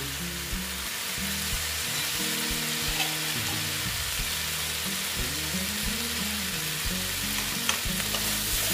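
Boiled chickpeas and squash with potato sauté in a pan, giving a steady sizzle over low rumbling and repeated scraping and stirring strokes throughout.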